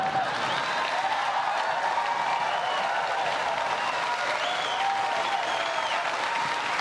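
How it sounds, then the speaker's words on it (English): Steady, sustained applause from a large town hall audience, dense clapping filling the whole stretch without pause or voices standing out. "that gets a lot of applause here"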